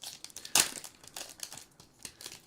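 One Piece card pack wrappers crinkling and crackling as they are torn open, with a sharp crunch near the start and then irregular rustling, no voices.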